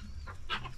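Soft chick peeps and clucks close by, a few short calls over a low background hum.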